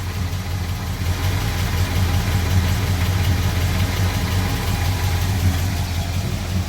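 Deep, rumbling true dual exhaust from an idling 1986 Ford F250 pickup, steady and close, with a slightly uneven, burbling pulse and nobody talking.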